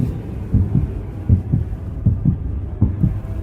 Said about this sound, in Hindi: राहुल की धड़कनें भी उस बंद स्टूडियो के सन्नाटे में जैसे गूंज रही थी।